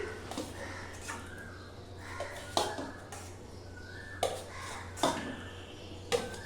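Fried green banana pieces are slid into a simmering pan one batch at a time, making several sharp clinks and soft splashes at irregular intervals over a quiet bubbling background.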